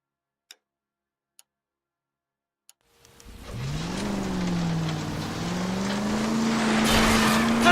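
A car in the video game LA Noire: a few faint ticks over silence, then an engine starts and revs, rising and shifting in pitch as it drives off, steady and fairly loud.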